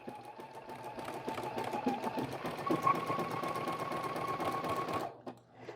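A sewing machine runs in a fast, steady stitching burr while appliquéing bias tape letters onto quilt fabric, close and continuous for about five seconds before stopping abruptly.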